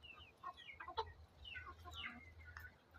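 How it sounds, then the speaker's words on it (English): Chickens cluck in an outdoor compound in Kenya, a few short calls scattered over a low steady background hum, moderately close and not loud. "the chicken saw me and they started running towards me."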